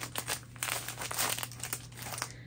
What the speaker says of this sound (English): Very crinkly.